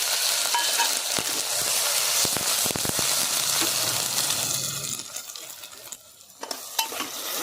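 Onion, carrot, chilli, potato and tomato fry in a pan over a mustard seed, cumin and curry leaf tempering while being stirred, a loud continuous sizzle with scraping clicks that fades toward the end.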